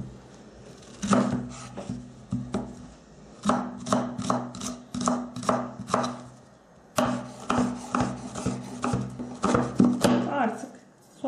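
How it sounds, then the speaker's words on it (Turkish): Repeated knife chops through onions on a cutting board in quick bursts, close and fairly loud, with a short pause midway before the rhythmic chopping resumes. "Öncelikle soğanlarımızı doğrayalım."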